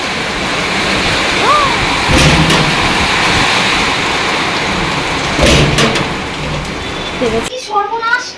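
Heavy monsoon rain in Bangalore pours down in a dense, loud continuous roar, broken by rumbling thunder and a passing vehicle, with a voice speaking briefly near the end.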